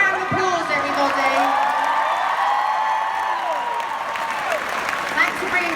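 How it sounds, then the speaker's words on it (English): Concert crowd at a pop show in Dallas applauding and cheering, dense clapping mixed with whoops and high shouts that swell and then taper off, with a voice speaking over it. "Give them a round of applause, everybody."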